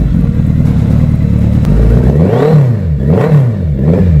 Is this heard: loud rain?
no